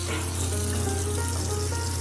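Water runs from a tap fed by a well pump, a steady close hiss that never lets up, with a low hum underneath.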